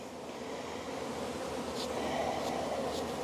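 Honey bees in an opened beehive give off a dense, continuous buzzing drone close by, with a few louder individual bees passing near, and no talking.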